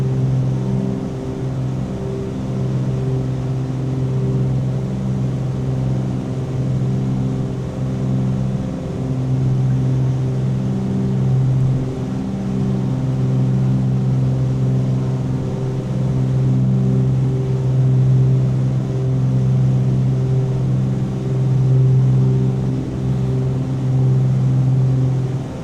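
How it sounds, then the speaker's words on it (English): A propeller aircraft engine in a flight simulator game drones loudly and steadily for the whole stretch, a deep layered hum with a constant pitch and no clear change in revs, with no talking. "Get the revs back involved, get the mixtures all the way up."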